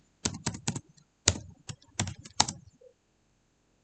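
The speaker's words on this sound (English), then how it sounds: "Can I do this so you see what I'm typing?" Typing on a computer keyboard during a CorelDraw data processing practical, a close run of crisp key clicks in short uneven bursts, then silence, with no talk over it.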